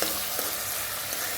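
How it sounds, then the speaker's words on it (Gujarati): Green garlic sautéing in a pan, a short burst of steady frying sizzle with a faint stirring scrape, close and alone. "થોડુંક લીલું લસણ સાંતળાઈ જાય, એકદમ ચડી જાય"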